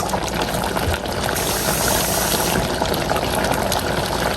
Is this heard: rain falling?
no